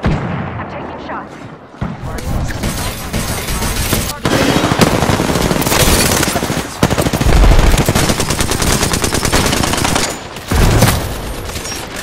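Loud, sustained automatic gunfire bursts in Apex Legends Season 2 on PS4, firing almost continuously with brief gaps, mixed with in-game voice callouts.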